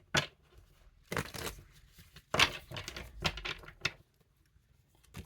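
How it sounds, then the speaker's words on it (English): Tarot cards shuffled in short papery bursts, with riffling and rustling in several separate bouts, close and moderately loud, with no talking. "So I'm just trying to shuffle these up because these are so many of them."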